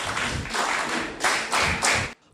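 Audience clapping to welcome contestants onto the stage at a youth event, bursts of loud clapping in a few surges, ending abruptly.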